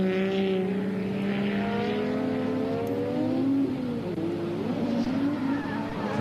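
Drift car engine screaming at high RPM through a tight section, pitch climbing and dipping with clutch kicks, loud and continuous at a race event.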